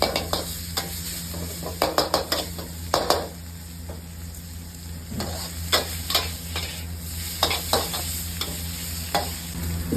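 Meat stir-fried in a hot pan for fried rice, a constant close sizzle with repeated spatula scrapes and clanks against the metal.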